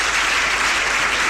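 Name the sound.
audience applause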